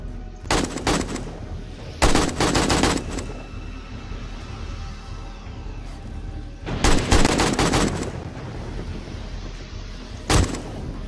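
Rapid automatic gunfire on horde night in the survival game 7 Days to Die, loud bursts of repeated shots in several separate volleys with short pauses between them.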